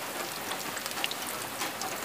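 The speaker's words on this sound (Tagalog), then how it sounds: "Grabe yung ulan dito" Heavy, steady rain pours down at Caliraya Lake during an outdoor cooking session, a dense continuous hiss with scattered droplet ticks, close and loud with no voices over it.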